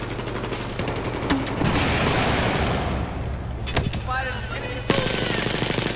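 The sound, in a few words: machine gun fire in video game Battlefield 4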